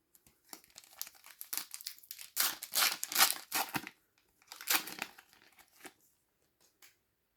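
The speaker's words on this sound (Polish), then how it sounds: "A więc otwieramy teraz saszetki." FIFA 365 2024 sticker packets being torn open, close crinkling and ripping of foil wrappers in irregular bursts with short pauses, no talking.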